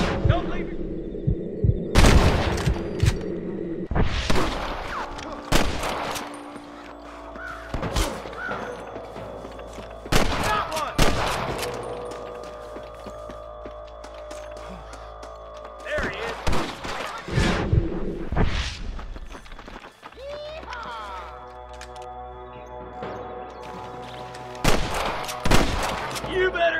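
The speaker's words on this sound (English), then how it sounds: "Gunshots!" Gunfire in the Western video game Red Dead Redemption: sharp shots ring out in irregular bursts, some close and loud, others spaced apart, over a low rumbling background with occasional voices.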